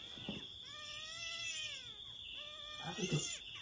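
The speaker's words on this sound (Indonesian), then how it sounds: "Kucing." A cat meowing at night during a camping trip, two drawn-out, wavering cries close by over a steady insect-like hiss, with faint low voices around them.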